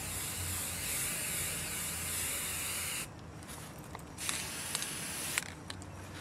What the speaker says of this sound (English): So I'm spray painting the top part of the table purple.